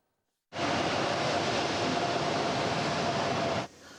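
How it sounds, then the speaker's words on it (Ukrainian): A train from the Donetsk region pulling into a station in the Rivne region, with one evacuation car among its wagons, gives a loud, steady broadband rumble and rush that holds level for about three seconds, then drops away sharply. "Потяг з Донеччини прибув на Рівненщину"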